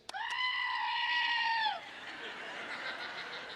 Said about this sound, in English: when you squeeze it, you can hear the goat scream like this.